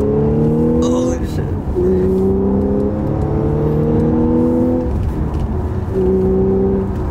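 An Audi S4 engine revving hard during a pull, a rising then repeated whining drone heard from inside the car, loud and steady, with people talking over it.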